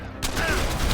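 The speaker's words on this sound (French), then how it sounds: "C'est une rafale." A rifle in the zombie game Dead Island fires a loud, sharp burst of rapid shots at close range, cutting in abruptly after a near-silent start and ringing out for under a second.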